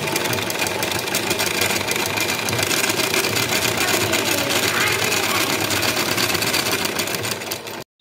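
A sewing machine stitches blouses and suits in a home, making a fast, steady mechanical whir and clatter that runs close and continuous for about eight seconds before cutting off.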